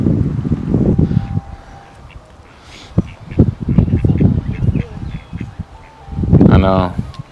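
Ducks at Apollo Park in Lancaster, California, give a short nasal run of quacks near the end, amid open-air background noise and brief rustling.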